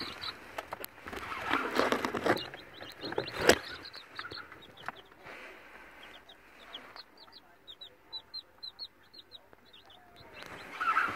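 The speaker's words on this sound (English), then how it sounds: "My new baby chicks." Baby chicks peep in a quick run of high, thin chirps, close and fairly clear, with some handling and rustling noise before the steady peeping takes over.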